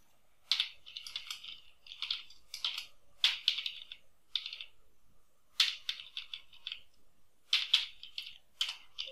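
Bursts of close, quiet typing on a computer keyboard, quick clusters of key clicks separated by short pauses while code is entered.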